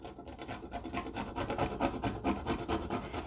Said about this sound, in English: you're able to zest or grate whatever you're looking for. So let's do some almonds.